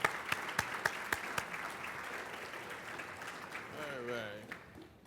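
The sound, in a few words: banquet audience applause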